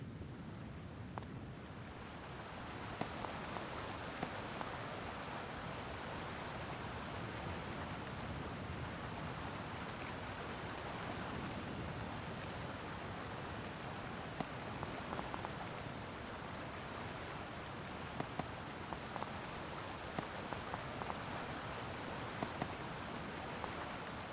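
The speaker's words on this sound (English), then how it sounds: "look at that waterfall there" A video game waterfall rushes in a steady, dense wash of falling water that stays constant and moderately loud throughout, with no voices.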